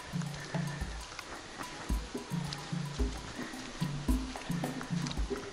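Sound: water falling at the Furnas waterfall

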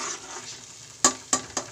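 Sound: dal and spinach saag cooking in pan

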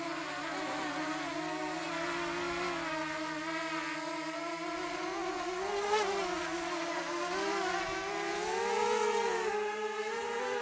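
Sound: DJI Mini 2 drone motors whining

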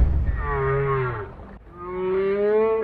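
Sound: recording of whale sounds played in a car

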